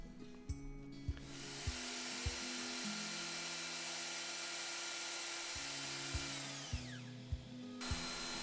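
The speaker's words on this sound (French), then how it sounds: "je fais un petit coup d'usinage d'un côté, un petit coup d'usinage de l'autre" A handheld wood router spins up and mills wood for a mortise-and-tenon joint, a sustained high whine with brief pauses and short taps between passes, close and fairly loud, with no voices.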